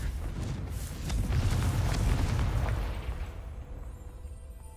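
A Confringo blasting spell explodes in Hogwarts Legacy, a loud booming burst that rumbles for a couple of seconds and then fades into quiet game ambience.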